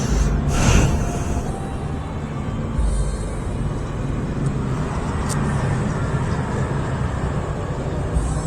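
A Kawasaki ZX-25R motorcycle passing on a mountain road toward Puncak, heard as a continuous engine and road roar with a brighter swell near the start, steady and fairly loud the whole time.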